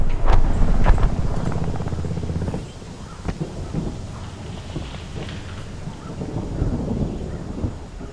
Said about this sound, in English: I hear a helicopter. Over there, Korean recon chopper.